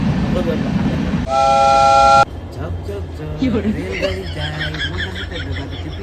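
A loud, sustained train horn blares briefly at Lumding railway station, followed by rumbling station noise with people talking over it.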